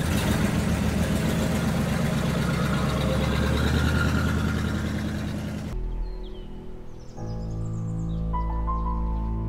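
A car engine hums loudly and steadily as the car pulls away, running for several seconds before cutting off abruptly into quiet.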